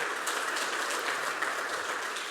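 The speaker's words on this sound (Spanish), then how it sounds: "Dale fuertes palmas al Señor." A church congregation claps loudly and steadily during a Sunday service, a dense continuous wash of applause with no talking over it.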